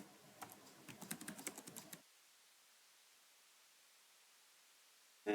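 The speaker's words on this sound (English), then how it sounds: "we're just gonna type some text inside here" Rapid typing on a computer keyboard, a quick run of soft clicks for about two seconds, then quiet.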